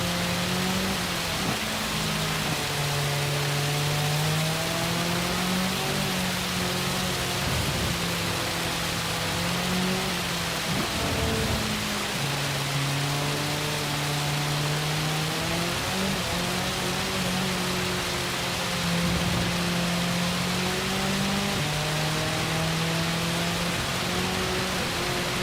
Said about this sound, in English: All I can hear is rain in my headphones